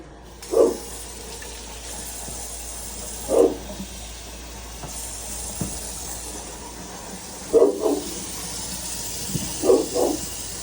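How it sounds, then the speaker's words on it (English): Dogs bark in the background of a home kitchen, four short separate bursts spaced a few seconds apart, moderately distant, over a steady hiss of running water. "Sorry about all of the dogs barking."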